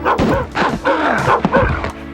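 A staff member imitates dog barks and yips into a microphone for a sound effect in the video game Rise of the Triad, giving a loud, close, rough run of woofs and growly bursts.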